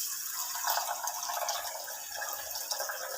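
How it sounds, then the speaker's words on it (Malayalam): Water is poured into a bowl holding two spoons of mung beans, making a steady, continuous splashing rush at close range with no talking. "വെള്ളം ഒഴിച്ചു കൊടുക്കുക."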